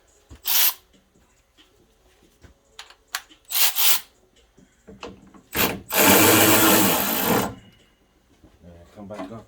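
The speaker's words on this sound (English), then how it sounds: "let's go ahead and switch over to the speed ratchet. And we can get them back in." A speed ratchet spins coolant reservoir tank bolts back in on a 5.3L Silverado, Sierra, Avalanche or Tahoe, heard as several short close whirring bursts and one longer run, with brief pauses and handling noises between.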